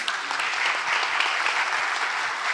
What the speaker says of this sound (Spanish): Vamos a continuar esos aplausos fuertes, grandes, enormes